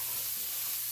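Half an onion sautéing in oil, a brief steady hiss of frying with no voices over it.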